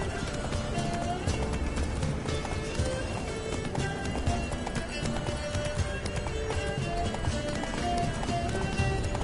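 Horse galloping in The Witcher 3 video game, a steady rapid clip-clop of hooves running continuously under busy game audio and music, with speech present.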